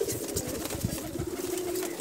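Pigeons released from their loft make a soft, steady cooing with light fluttering and wing flaps close by, continuous over a brief moment.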